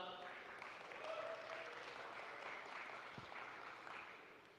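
An audience at a Bitcoin conference, Adopting Bitcoin 2024, applauds in a steady wash of clapping that holds for several seconds, fairly even in loudness, with a voice faintly audible underneath.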